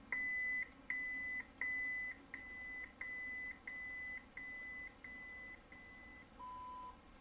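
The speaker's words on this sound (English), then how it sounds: "When you hear that different tone, you're at the lowest volume." Lightsaber soundboard in a 2005 Master Replicas Skinny Flex hilt with a Proffie conversion, giving a series of short electronic beeps that grow quieter step by step, ending on a single lower, different tone at lowest volume.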